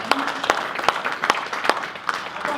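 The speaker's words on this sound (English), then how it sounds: "really deserves a round of applause for that" Scattered audience clapping at a convention Q&A session, a handful of distinct, separated claps rather than full applause, fairly sparse and moderately loud.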